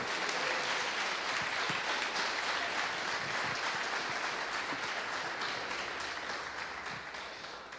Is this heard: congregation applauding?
yes